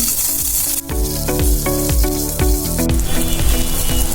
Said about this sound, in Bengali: তেল দেওয়ার পরে মরিচগুলো ভেজে নিলাম, রসুনগুলো ভেজে নিলাম